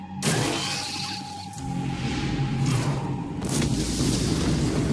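Explosions echo through ant tunnels in Solo Leveling: Arise, a sharp opening blast followed by sustained rumbling booms and crackling bursts, loud and continuous, with a second burst near the end.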